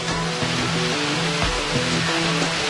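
Mountain stream running over rocks in the woods, a dense continuous rushing hiss that stays steady and close for the whole stretch, with no voices.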